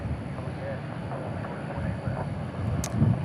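A Boeing 777 airliner takes off, its engines a steady, broad distant roar throughout, with a voice talking faintly underneath.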